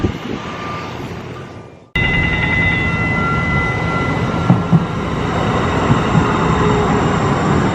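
A train rumbles loudly nearby with a steady roar and squealing, high-pitched tones, after a sudden cut from a quieter rumble.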